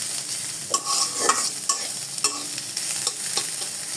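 Three green chilies and onion frying on a low flame give a gentle sizzle over a string of scraping spatula strokes against the pan, close and fairly loud, with no talking.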